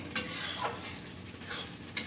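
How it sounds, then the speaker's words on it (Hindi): Spiced masala paste being fried and stirred in a pot for a fish curry, with scraping and clinking of a spoon against metal over a low sizzle, close and fairly quiet. "ये देखिए अब ये ज्योति मसाला को भूज रही है।"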